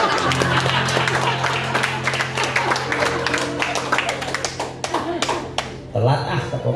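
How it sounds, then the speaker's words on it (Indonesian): A church congregation claps during a sermon, a dense stretch of many hands beating in a fast, uneven patter that rolls on for several seconds before thinning out. Voices, including a child's, mix in under the clapping. "Telat tepuk tangan."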